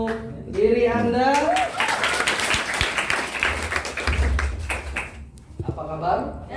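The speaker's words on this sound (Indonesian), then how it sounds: "Beri aplaus untuk diri Anda." An audience at a live event in Indonesia breaks into applause, a dense patter of clapping that swells and then fades. Someone speaks over the start and again as the clapping dies away.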